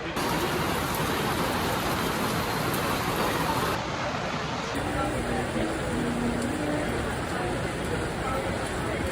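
Rain pours steadily at Disney's Hollywood Studios theme park, a dense, continuous hiss of drops close by and fairly loud throughout, with a slight shift in texture partway through.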